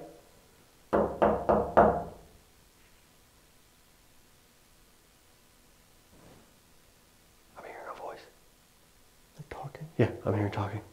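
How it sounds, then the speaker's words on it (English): Knocking on a door inside a reputedly haunted house at night: a quick cluster of several sharp raps, then quiet, then louder bursts of knocks near the end, with faint hushed voices between. "Can you knock on this door?"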